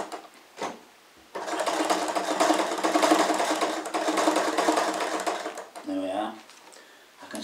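A sewing machine stitching leather for a tractor cushion runs in a long, fast, rattling burst of several seconds, then stops for a brief spoken aside and restarts with short stitching bursts.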